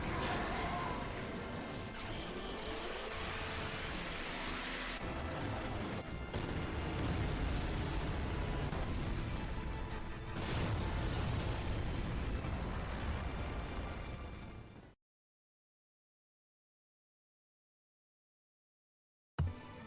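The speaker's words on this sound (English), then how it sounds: "as he soars through the sky and unleashes a powerful fiery attack" A dragon's fiery attack animation in Final Fantasy VIII roars as a continuous loud blast with crashing bursts for about fifteen seconds, then cuts to silence before a brief final thud.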